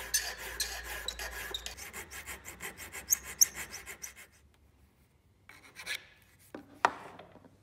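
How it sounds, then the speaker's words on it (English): A mill file smooths brass edges in quick, rhythmic rasping strokes for about four seconds, then a short quiet pause and a few isolated scrapes and taps, close and moderately loud in a quiet workshop. "After cleaning that up with my mill file, it was then time for a test fit"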